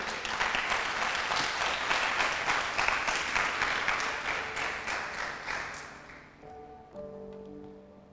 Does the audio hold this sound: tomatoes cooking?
no